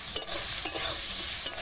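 Onion and chili fry in a pan with mustard in a village kitchen, a loud close sizzle with a few quick scraping stirs, no voices.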